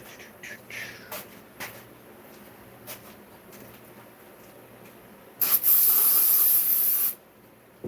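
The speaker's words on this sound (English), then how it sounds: "I'll spray this out." A few faint scrapes and clicks, then a loud, steady hiss of aerosol spray cleaning out a new engine bottom end, lasting under two seconds before cutting off abruptly.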